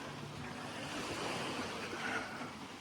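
Sea surf washes continuously onto a free city beach on a cool, windy evening, a steady dense roar of waves with wind buffeting the microphone and no talk.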